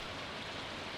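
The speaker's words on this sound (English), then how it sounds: "It's raining." Rain falls in the Stardew Valley video game as a continuous soft hiss of steady rainfall, even in level and with no talking.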